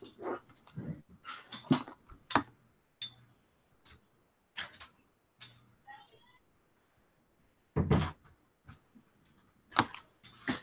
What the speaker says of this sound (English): Is there a dog in the background?